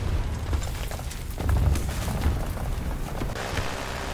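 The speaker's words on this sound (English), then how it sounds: "Oh, those are bombs." Bombs exploding in War Thunder, a World War II tank battle game, as deep rumbling booms that roll continuously through a dense, noisy battlefield mix, with heavier thumps near the middle.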